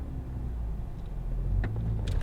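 An Acura TL with a six-speed manual transmission accelerates from a stop, its engine rumbling low and rising steadily in loudness, with a few clicks and knocks from inside the cabin.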